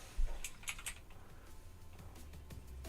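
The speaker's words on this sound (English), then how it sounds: "Let me type that in." A computer keyboard is typed on at a workbench while looking up a MOSFET part number, giving a few quiet, scattered key clicks over low background hum.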